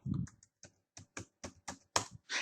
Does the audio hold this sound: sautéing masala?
no